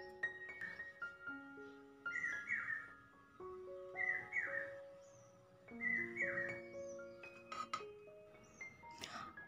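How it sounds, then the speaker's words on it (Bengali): An Asian koel calls among trees in Rajshahi, its rising whistled notes repeating about every two seconds, clear and mid-distance, mixed with other bird chirps and whistles. "আর চমৎকার কোকিলের ডাকটা শোনা যায়।"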